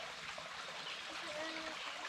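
Creek water in Red River Gorge, Kentucky, trickling steadily at close range, a continuous soft wash of small splashes with no breaks.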